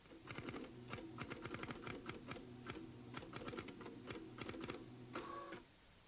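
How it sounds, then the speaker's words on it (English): Rapid, uneven clicking of keys on a keyboard, continuous and close, with a brief pause before a final burst, then quiet. "Please stop typing for a few minutes."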